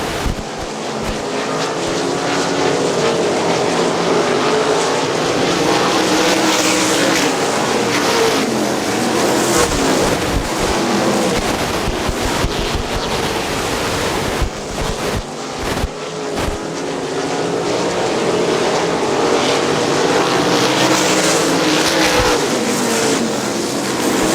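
410 sprint cars racing on a dirt track at Butler, engines roaring loudly and continuously as cars pass close by, pitch rising and falling, with wind buffeting the microphone.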